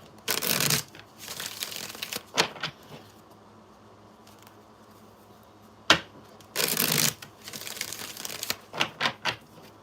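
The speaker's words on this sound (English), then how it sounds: "I'm going to shuffle one more time." Tarot card shuffling in two bursts of riffling and flapping, with a few short slaps and taps in between, close by and fairly quiet.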